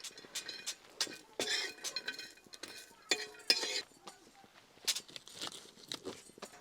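Coconut is stirred and roasted in a pan over a wood-fired stove, giving quiet, irregular scrapes and metallic clinks of a spoon against the pan in short bursts, faint and close with small pauses between strokes.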